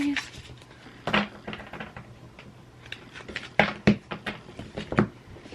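A deck of oracle cards being shuffled by hand, soft riffling and tapping with a few sharper snaps and knocks at irregular moments, close up and otherwise quiet.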